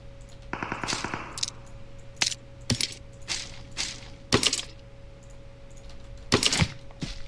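Gunfire in the mobile battle royale game PUBG Mobile, with a rapid automatic burst followed by scattered single sharp shots and cracks at irregular intervals, some loud and close, others softer.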